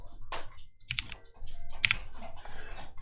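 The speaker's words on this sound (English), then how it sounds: "I want to get my microphone a little bit closer to the keyboard" Keystrokes on a TGR Jane V2 mechanical keyboard with Vintage Browns switches on a half plate, a few scattered, close-miked clacks and thocks spaced irregularly over three seconds, with no talking.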